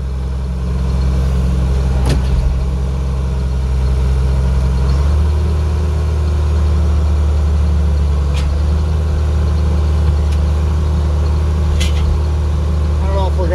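A heavy tractor engine rumbles steadily from inside the cab, low and loud throughout, with occasional clicks and a shift in tone partway through.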